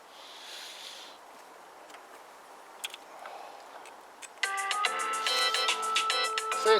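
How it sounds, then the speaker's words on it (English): A mobile phone ringtone plays in a workshop, a bright repeating melodic tone that starts suddenly and continues loudly after a few faint ticks and clicks. "Start filming, phone rings."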